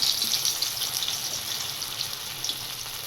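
Hot oil heating in a frying pan during a rainy-day snack session hisses with a continuous soft sizzle and fine crackle, fairly quiet and without talk.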